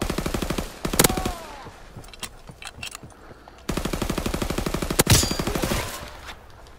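Bursts of automatic and single-shot gunfire from the World War II shooter Call of Duty WWII, loud and close, firing in rapid rhythmic volleys with short pauses and a sharp crack near the middle.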